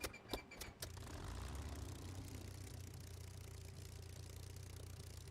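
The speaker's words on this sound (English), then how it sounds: "the popping and banging from the exhaust seems fine, but they've used a radial engine noise for that" A few sharp exhaust pops and bangs from a Spitfire in Microsoft Flight Simulator open the clip, then give way to a steady, rumbling engine drone that continues at an even level.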